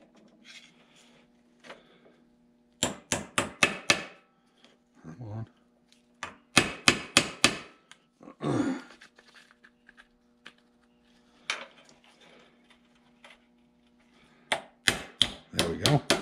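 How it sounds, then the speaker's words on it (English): A small hammer drives a pin into the rear axle of a Farmall Cub tractor during a rebuild, sharp metallic strikes in quick rhythmic groups of several blows, close and loud, with brief pauses and scraping between. "Start out with a small hammer."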